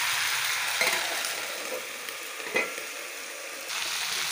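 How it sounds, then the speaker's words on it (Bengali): Flat beans fry in a pan, a soft steady sizzle broken by a few scraping stirs, fairly quiet and close with no voices. "এখন নেড়ে চেড়ে কম আঁচে অল্প ঢেকে রাখবো"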